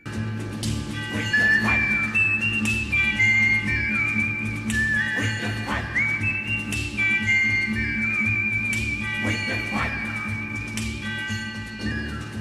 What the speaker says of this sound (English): one of the most iconic sounds we hear in much more westerns, the iconic whistle